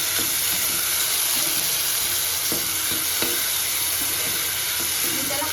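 Besan pithal being stirred with garlic and a little coriander in a frying pan, a steady close sizzle and hiss with soft scraping strokes of the spoon throughout.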